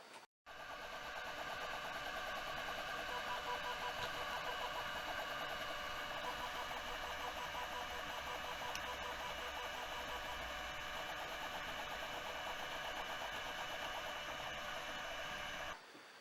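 A Cartesian 3D printer built on MGN15 rails and carriages runs at high speed, giving a steady, loud mechanical whir and buzz with rapid stepper-motor patterns and vibration that hold evenly for about fifteen seconds.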